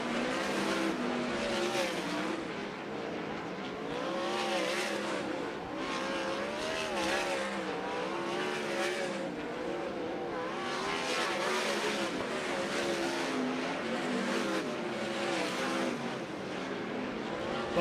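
Sprint cars run hot laps at Fremont Speedway in Ohio during NAPA ASCoC Ohio Sprint Speedweek, a continuous roaring engine drone from several cars circling the dirt oval, heard at a steady distance without a break.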